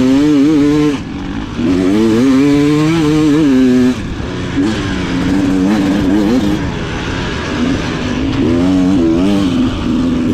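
A trail motorbike engine revs hard and close, climbing and falling in pitch through several surges with brief dips between throttle bursts.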